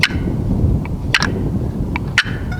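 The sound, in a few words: turkey hunting box call making a cluck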